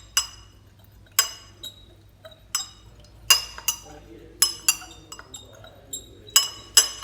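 Glass clinks sharply again and again in a quick irregular run, like a spoon striking a glass beaker while Rooh Afza syrup is stirred into water, each ring bright and close over a low steady hum.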